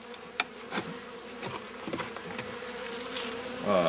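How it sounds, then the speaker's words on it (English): Honey bees buzz around an opened hive during a spring frame inspection, a close continuous drone with individual insects zipping past, fairly quiet overall. "I got to get the bees out of here."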